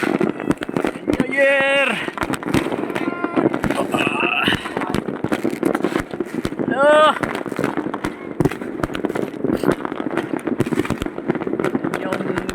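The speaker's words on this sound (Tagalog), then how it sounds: "Yung Greenland New Year's ito guys, talagang galanti sila sa Paputok" New Year fireworks in Greenland crackle and pop in dense, continuous bursts throughout, with sharp transient bangs scattered over a steady rumble; people talk and shout over the display.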